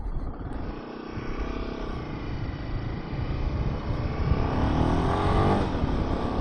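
A Royal Enfield Himalayan motorcycle on a first ride pulls hard in first gear, its engine drone steady and close, building gradually in loudness as it climbs through the revs.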